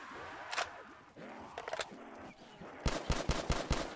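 Black Ops 3 custom zombies game gunfire, with a few scattered shots followed by a rapid burst of five or six loud shots near the end, under faint game sounds.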